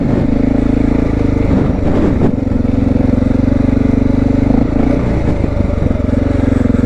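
A Honda XR650L motorcycle rides through snow, its single-cylinder engine droning loud and steady up close with a constant low rumble, slight surges and dips in throttle, and faint clatter mixed in.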